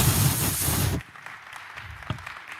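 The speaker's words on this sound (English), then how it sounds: "Can you please clap well for our prof?" An audience at a summit applauds a professor, a dense burst of clapping for about a second before it drops away to a quieter room with scattered faint sounds.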